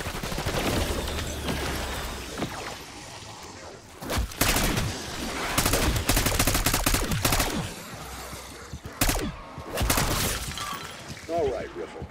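Gunfire in Call of Duty Black Ops 6 on PS5, including an air rifle, comes through as loud bursts of shots and crashing impacts that arrive in clusters amid steady game noise, close and prominent.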